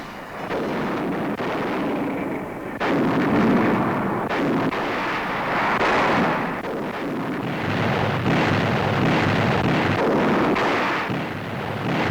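Naval guns aboard American warships fire in archival newsreel footage, heavy booms piling into a loud, continuous rumbling barrage.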